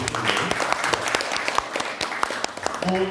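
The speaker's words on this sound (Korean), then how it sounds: "다시 한번 박수를 좀 드리고요" Audience applause closing a museum lecture on Incheon history, a dense steady wash of many hands clapping at moderate distance, with faint voices mixed in near the end.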